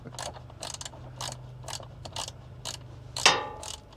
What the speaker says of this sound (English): we're just going to tighten these bolts down